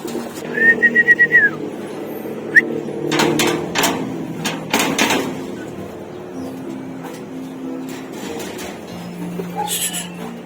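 Racing pigeons being released outdoors: a brief cooing whistle, then several loud flurries of flapping wings that fade into quieter rustling and faint bird sounds.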